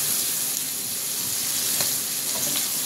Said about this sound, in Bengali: চিংড়ি মাছগুলো সুন্দর করে তেলে ভাজতে নিতে আসি।